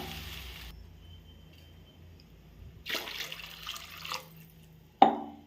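Water pours into a pan for rava upma, three glasses of water to one of semolina. A splashing pour of about a second comes after a quiet stretch, then a short sharp clatter at the end, with no talking.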